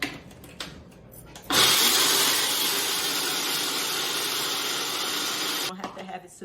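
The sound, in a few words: Ninja blender milling flour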